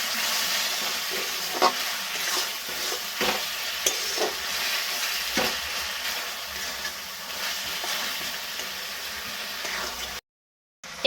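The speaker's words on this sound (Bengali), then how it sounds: "দিয়ে দিলাম আদা রসুনের পেস্ট। এটাও একইভাবে কষিয়ে নেব" Ginger-garlic paste is stirred and fried in a pan for a chicken and potato curry, giving a constant soft sizzle broken by repeated spatula scrapes and clicks, with no talking.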